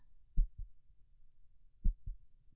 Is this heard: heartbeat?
yes